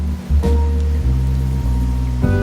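Steady rain falls on a rainy night in the video game Wuthering Waves, a loud continuous wash layered over a low ambient musical drone.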